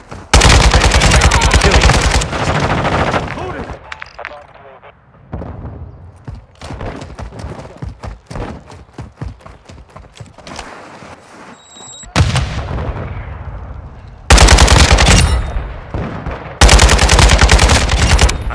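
AK47 fire in Call of Duty MW2 multiplayer on the Shoothouse map: loud, close bursts of rapid automatic shots alternate with sparser single cracks and distant exchanges, with heavy sustained volleys near the start and end.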